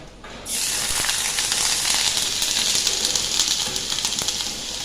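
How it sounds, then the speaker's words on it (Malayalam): Ginger, garlic and green chillies hit hot coconut oil and burst into a loud, steady sizzle that starts abruptly and keeps up a bright hiss throughout. "ഇഞ്ചിയും വെളുത്തുള്ളിയും പച്ചമുളകും ഇട്ട് കൊടുക്കട്ടെ കേട്ടോ"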